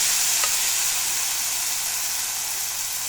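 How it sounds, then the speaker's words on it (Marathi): Cumin seeds and soaked wheat kurdai sizzle in hot oil in a pan, giving a bright, steady, close hiss that fades slightly over a few seconds, with no talking. "आपण यात आता तेल तापलेले जिरे टाकूया"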